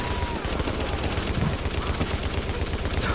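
Sustained automatic weapon fire in The Division's Dark Zone, a continuous loud rattle of rapid shots lasting several seconds, close and unbroken, with no voices over it.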